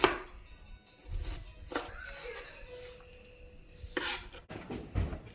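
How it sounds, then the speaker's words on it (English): Knife chopping broccoli at the stem on a cutting board for a simple stir fry, a few separate thuds and taps spaced apart amid quiet room noise. "So for broccoli, I just try to cut it right there by the stem, little piece by piece."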